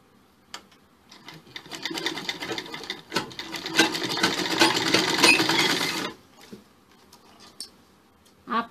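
A sewing machine stitches a sleeve for a Chinese-collar sherwani suit with puff sleeves, running in a steady rattling burst for several seconds between softer starts and stops, close and clear.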